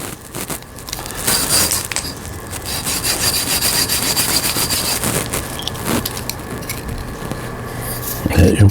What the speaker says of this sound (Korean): 사포를 넣고